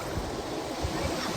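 Sea waves wash in at a beach in Goa, a continuous close surf roar mixed with wind noise on the microphone.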